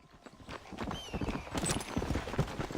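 Horse hooves clip-clopping in Red Dead Redemption, a quiet, busy patter of footfalls over game ambience and faint background sounds.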